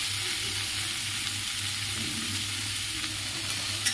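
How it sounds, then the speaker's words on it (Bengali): Raw tomatoes hit a hot pan and sizzle steadily for several seconds, a bright continuous frying hiss with a low hum beneath and no talking. "এই কাঁচা টমেটো দিয়ে দেবো।"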